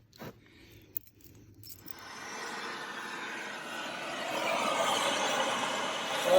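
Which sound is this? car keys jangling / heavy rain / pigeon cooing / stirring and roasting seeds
car keys jangling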